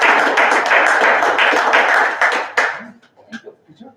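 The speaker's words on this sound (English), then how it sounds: "And one more round of applause." An audience claps in dense, sustained applause at a promotion ceremony; the clapping stays steady and loud for under three seconds, then thins to a few scattered claps and light taps before fading.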